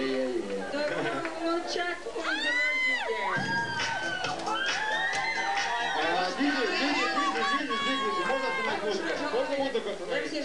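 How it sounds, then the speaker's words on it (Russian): A live crowd at an MC stage show cheers, whoops and shouts with excited chatter, a dense, loud, continuous roar with high yelps rising above it throughout. "Под ваши, конечно же, аплодисменты."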